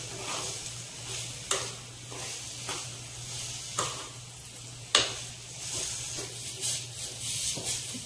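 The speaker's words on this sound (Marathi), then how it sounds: "आपलं जे मिश्रण होतं ते यामध्ये घालून घ्यायचे आणि छान परतून घ्यायचे" Pea paratha filling mixture sautéed in a pan, with a faint hiss and occasional sharp spatula knocks and scrapes against the pan at irregular intervals, quiet and close with no voices.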